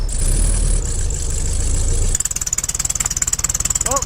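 Air-cooled VW Beetle engine idling in snow after a winter cold start, a loud steady rough rumble that settles into an even pulsing beat partway through.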